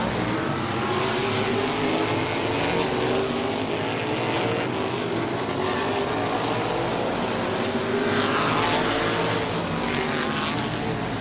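Modified race cars roar around a dirt oval track, a loud continuous engine drone with rising and falling pitch as cars pass close by, steady throughout with no pause.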